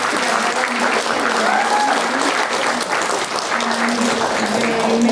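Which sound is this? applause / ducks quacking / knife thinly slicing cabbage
applause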